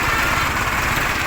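A 2018 Mahindra 555 DI 57 HP tractor engine runs steadily nearby, a loud, continuous diesel chug with an even throb and no pauses.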